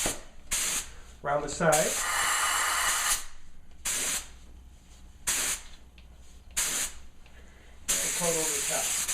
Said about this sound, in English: And with the same air-assisted airless, we'll give it a coat